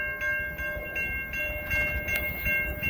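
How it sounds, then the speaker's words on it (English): A train passes in Pascagoula, Mississippi, with a loud, continuous rumble of rolling wheels and steady horn tones sustained over it, heard close by. "here comes the train."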